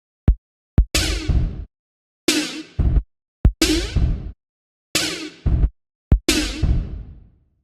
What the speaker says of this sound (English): we wanted to have a flanger effect